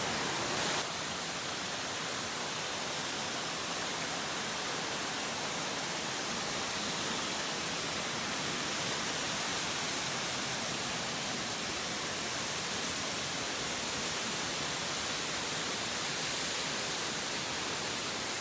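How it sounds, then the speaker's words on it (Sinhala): Magelialla waterfall near Mathugama pours down in the dry season, a loud, unbroken wash of falling water with no other sounds above it. "මේ සුන්දර මාගෙලියල්ල මේ පායන කාලෙකදී උනත් කොච්චර ලස්සනට කඩා හැලෙනවද"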